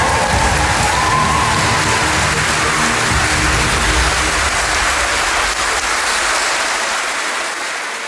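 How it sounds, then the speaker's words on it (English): Wedding guests applauding the newly married bride and groom, a dense, loud roar of clapping and crowd noise that holds steady and then begins to thin toward the end. "Give them a round of applause."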